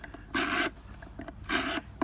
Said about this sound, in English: I just keep using the same sharpener to cut the metal off of whatever it is that I'm working on